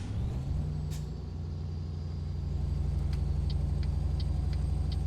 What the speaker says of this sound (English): We're going to meet with this car carrier.